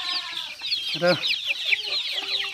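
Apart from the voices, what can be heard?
local chickens clucking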